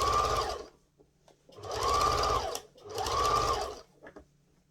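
A sewing machine stitching through layered cotton cushion cover fabric for a piped, zipped cushion, three loud, fast whirring bursts of stitching separated by short pauses.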